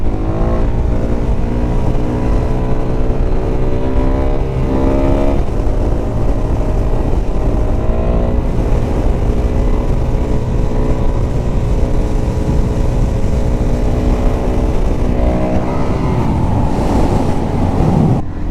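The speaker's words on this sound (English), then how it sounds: "So we're just going to do a wheelie just for the fun of it now." A Suzuki DRZ400SM motorcycle engine runs loud and steady, rising and falling in pitch as it is pushed through the gears for a wheelie, with heavy wind buffeting throughout.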